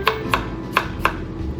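A knife chopping garlic to a medium mince for garlic shrimp, four sharp, crisp taps on a cutting board in an uneven rhythm over a low background hum.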